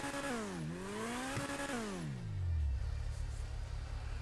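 A Lamborghini Revuelto V12 revs hard nearby, its pitch climbing and dropping in a couple of sharp sweeps before falling to a low, steady idle rumble, loud and clear.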